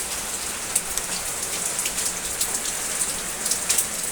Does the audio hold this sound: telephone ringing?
no